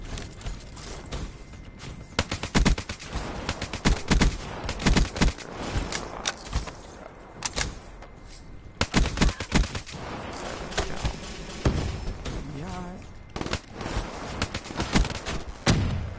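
Rapid gunfire in a video game, with dense clusters of sharp shots in quick bursts across the whole stretch, loud and close, with no talk.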